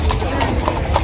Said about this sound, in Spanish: Qué lindos esos caballos.